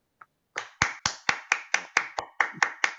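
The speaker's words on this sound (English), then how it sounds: "let's give her a good round of applause." A small audience at a public speaking course gives a round of applause, about a dozen sharp, evenly spaced claps, close and clear with no talk.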